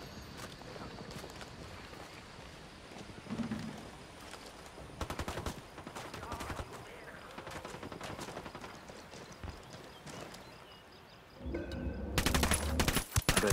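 Gunfire in the video game Ghost Recon Wildlands: scattered sharp shots and short bursts crack over a low ambient bed, growing denser and louder toward the end, heard alone without talk.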